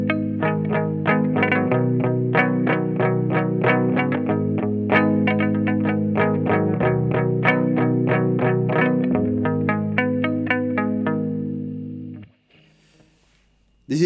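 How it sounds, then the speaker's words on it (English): Guitar strings muted with a tough hair tie of a different material, played through effects with chorus and distortion, giving a steady run of short, damped plucked notes that end in near silence. "This is a more muted sound because it's a tougher and from the other one, and it's made of different materials."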